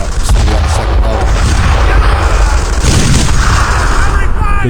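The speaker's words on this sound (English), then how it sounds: "Good shot. Look at him hit that window there." Loud, dense gunfire and booming battle noise rage in the Brothers in Arms: Earned in Blood video game, as a shot strikes a window amid continuous heavy combat.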